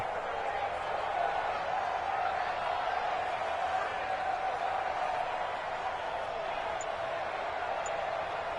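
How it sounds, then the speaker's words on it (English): Home crowd applause in an American football video game after a New York Jets victory, a steady, dense wash of clapping and crowd noise that holds at an even level throughout. "And the home crowd applauding."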